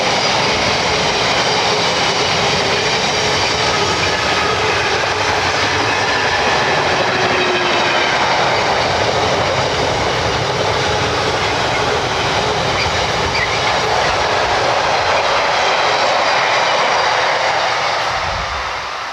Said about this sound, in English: I'm right next to a train line here